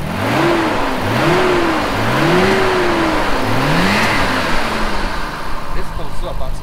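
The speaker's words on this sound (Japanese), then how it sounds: "the idling is not as stable as the OEM, but the response is very very working well" Nissan Skyline GT-R BNR32 engine fitted with a changed cam, loud and close, blipped in four quick rising revs over a slightly lumpy idle, with someone talking over it.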